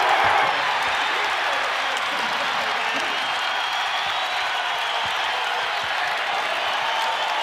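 A basketball arena crowd at an NCAA men's college game between Texas and Iowa State roars and cheers steadily after a steal, a dense, sustained wash of voices.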